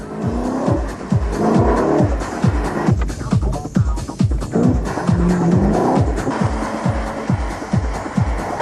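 Hartge 5-liter V8 car driven hard on a race track through a pylon course, a loud, close engine roar with rapid rhythmic revving pulses, gear changes and squealing tires throughout.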